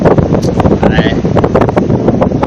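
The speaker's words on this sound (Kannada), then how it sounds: "ಇಲ್ಲಿಂದ ತಂಪು ಗಾಳಿ ಇದೆ" Cool wind blowing steadily at the Dhanushkodi seashore, a loud continuous buffeting roar across the microphone with no pause throughout.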